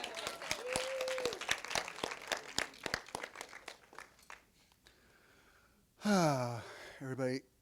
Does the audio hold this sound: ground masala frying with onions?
no